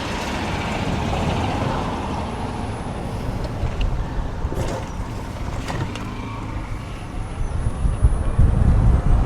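A car rolls through a raised gate arm near a golf cart path, a broad rumbling pass with some creaks and clunks, fairly close and steady, swelling at the end.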